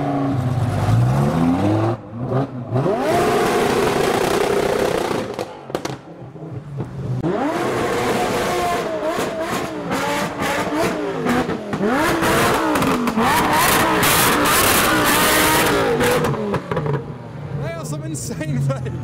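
Car engines rev and accelerate loudly at a car show, with several vehicles pulling away one after another amid crowd noise.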